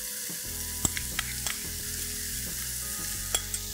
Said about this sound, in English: After the mushrooms, we stir this, add in the remaining butter.